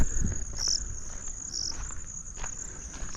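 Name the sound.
crickets chirping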